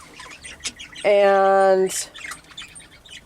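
Pet birds in an indoor breeding setup give one loud, sustained squawk lasting under a second, with scattered soft chirps and rustling before and after and a brief spoken word nearby.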